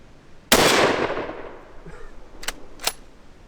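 One sharp rifle shot at a Tannerite pumpkin target outdoors, a loud crack trailing into an echo, followed by two brief faint clicks or knocks, with no talking.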